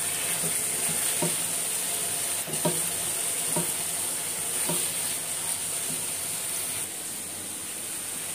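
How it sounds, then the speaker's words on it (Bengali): Food fries in a pan with a steady close hiss, and a spatula scrapes through it in regular strokes about once a second. "তো এই যে হয়ে আসছে, ভাজা ভাজা করব।"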